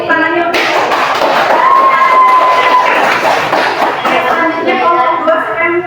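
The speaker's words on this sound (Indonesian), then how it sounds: "Tepuk tangannya untuk" A classroom of students claps for a discussion group that has just presented. Loud, busy clapping mixed with voices and cheering swells for a few seconds, then eases off as talk continues.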